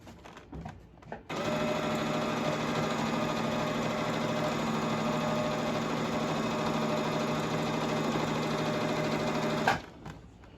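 A sewing machine stitches a crash bag in one long, steady, close run of rapid needle strokes lasting about eight seconds, bracketed by brief handling noises before and after.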